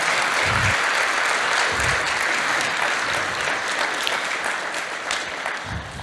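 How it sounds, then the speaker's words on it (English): Steady, loud applause from a large audience, dense clapping that continues throughout with no break. "Could I get the crowd to give these people a round of applause"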